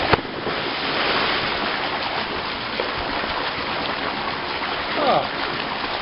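Water pours continuously into an outdoor hot bath in Australia, a broad steady rushing and splashing that fills the scene, with a faint voice briefly near the end.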